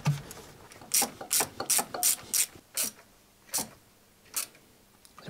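A ratchet wrench tightens a bolt on a car engine, giving about a dozen quick clicking bursts in uneven rhythm, close and fairly clear with no talking.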